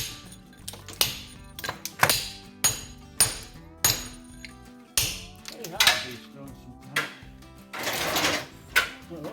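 Hammer strikes on a chisel cutting into an Irish stone cottage wall, a run of sharp, close, irregular metallic blows with brief pauses between them.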